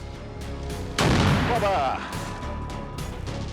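A single heavy artillery blast bursts out on a frontline battlefield, a sharp loud boom with a rumbling tail that fades over about a second, preceded and followed by lower background noise.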